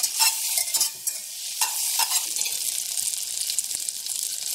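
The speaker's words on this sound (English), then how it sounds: "Got the heat on medium. Now I'm going to add the cube of butter." A cube of butter melting in a pan over medium heat, giving a soft, steady sizzle with light stirring scrapes throughout, fairly close and without talk.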